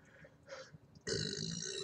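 A single loud, drawn-out burp close to the microphone, rising abruptly after a quieter gurgling start and holding for nearly a second.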